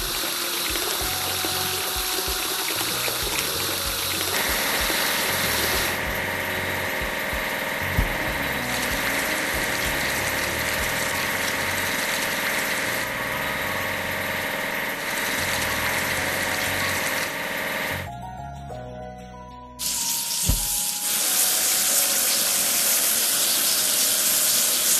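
Water sprays steadily to wash a toy crane, a long continuous hiss with a pump-like whir that cuts out briefly near the end and then returns louder and brighter.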